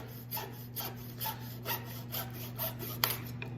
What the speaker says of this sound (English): I put my saw blade into the 60-degree cut area, and I line it up right at the end of my cut